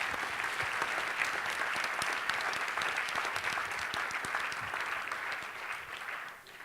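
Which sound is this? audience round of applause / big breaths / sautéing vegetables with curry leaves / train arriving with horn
audience round of applause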